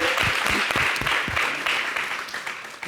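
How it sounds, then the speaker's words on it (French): A crowd applauds steadily throughout, a dense wash of clapping that stays loud for the whole stretch. "Est-ce qu'on peut applaudir pour lui, s'il vous plaît?"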